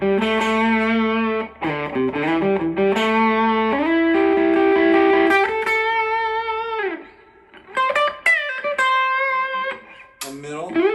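PRS Archtop 2 electric guitar on the bridge pickup, picked as sustained melodic lines and chords with a clean, bright tone and slight effects, close and loud with brief pauses between phrases.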